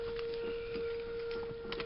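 A tornado warning siren in a small town holds one steady, unbroken wail, far off but clear above a low background hiss.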